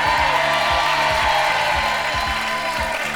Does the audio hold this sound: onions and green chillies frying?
no